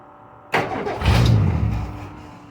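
A car fitted with an external fuel pump cranks and catches, then settles into a steady running rumble, close and loud.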